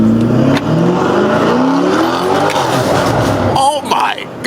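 A BMW M550i, driven on a New York street in Sport Plus mode, accelerates loudly up close, its engine note rising steadily in pitch. Near the end there is a brief shift and rev, and a voice can be heard over it.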